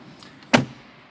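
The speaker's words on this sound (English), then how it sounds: "I'm just going to close these doors here." A door on a 2014 Dodge Ram 2500 4WD Limited pickup truck is shut once with a single solid close thud in a quiet setting.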